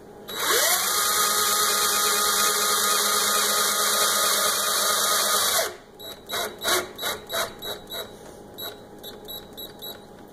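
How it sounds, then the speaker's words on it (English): A power drill drives a screw for a kitchen cabinet knob, whining loudly and steadily for several seconds before winding down, then a series of short rhythmic bursts follows as the screw is finished. "I'm screwing this in now and I have to hold it this way"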